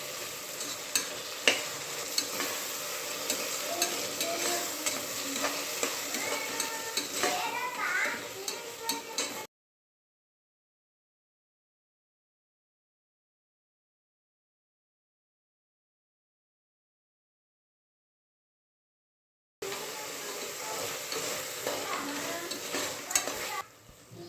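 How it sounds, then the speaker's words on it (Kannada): Ground palak (spinach) paste being stirred in a frying pan for a palak rice breakfast, soft scraping and sizzling at close range, broken by a long silent gap before the stirring resumes. "ಇವಾಗ ಆವಾಗಲೇ ನುಣ್ಣಗೆ ರುಬ್ಕೊಂಡಿರೋಂಥ ಪಾಲಕ್ ಸೊಪ್ಪನ್ನ ಹಾಕ್ತಾಯಿದ್ದೀನಿ. ಚೆನ್ನಾಗಿ ಮಿಕ್ಸ್ ಮಾಡಬೇಕು."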